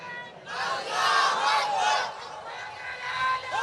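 A large crowd of married men at a religious sermon gathering roars a chant in unison, a loud swelling shout that fades and then rises again in a smaller second wave.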